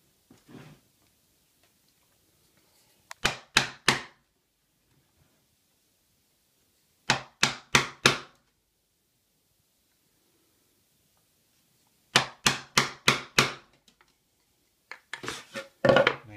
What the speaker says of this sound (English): I'm just going to use a mallet and a chisel to chop out that waste section.